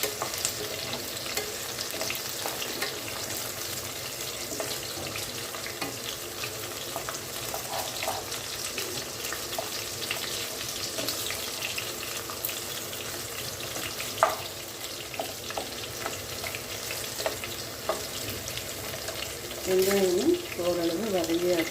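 Garlic frying in a pan with a pinch of asafoetida gives a continuous close sizzle, with occasional stirring scrapes and clicks and a brief louder bubbling burst near the end.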